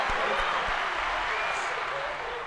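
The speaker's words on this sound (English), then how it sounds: "That's a clap." Canned applause sound effect triggered from a soundboard, a steady wash of crowd clapping and cheering heard alone for a couple of seconds and slowly fading at the end.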